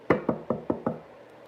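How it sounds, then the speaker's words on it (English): Five firm knocks on a door land in quick, even succession, close and clear against a quiet background. "Soon there was a knock on the door."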